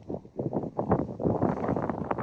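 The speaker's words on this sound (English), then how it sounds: "I failed to prepare for the wind of Cyprus." Outdoors in Cyprus, wind buffets the microphone in continuous low rumbling gusts that swell and fade irregularly, with no voices over it.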